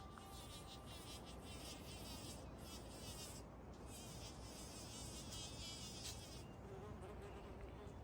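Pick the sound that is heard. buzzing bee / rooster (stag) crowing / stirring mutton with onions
buzzing bee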